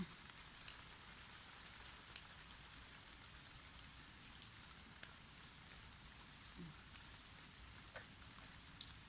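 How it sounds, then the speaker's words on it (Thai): Light rain falls steadily on a home vegetable garden as a faint, even patter, broken by a few sharp, louder drips landing nearby. "ฝนตกค่ะ ฝนตก ต้องรีบเก็บค่ะ"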